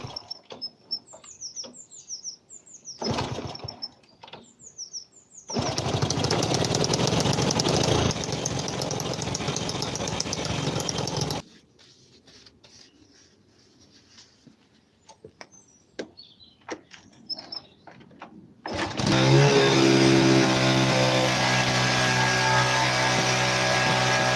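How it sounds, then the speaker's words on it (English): A Honda C200 motorcycle engine cranks and fires into a rough idle, with bursts of running broken by quiet gaps where birds chirp in the background, then catches again and revs loudly at the end. "I decided to hook it all up and start the bike up, which sounded a bit like, well, this"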